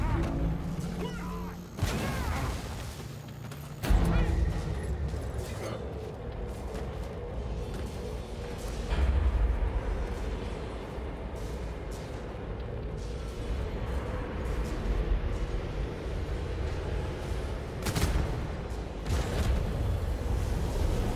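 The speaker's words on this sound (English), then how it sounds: "So pleased to see a wrecking device fire up" A wrecking device fires up in the Vermintide game Skittergate level, a sustained loud mechanical rumble with heavy booming bursts near the start and again later, continuing without a break.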